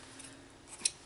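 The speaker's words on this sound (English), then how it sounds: "Trim the ends." Scissors snip the ends of wraps on a handmade pen box, a single quiet, sharp cut near the end of an otherwise hushed moment.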